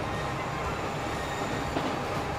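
A train rolling into the station area in the game Transport Fever, a steady loud rumble of wheels on track with a faint high tone running through it, no voices.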